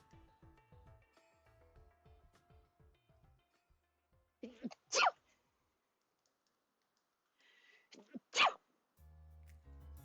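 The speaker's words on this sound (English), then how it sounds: "I feel a sneeze." Two sharp sneezes a few seconds apart, following soft keyboard clicking, with a low hum at the end.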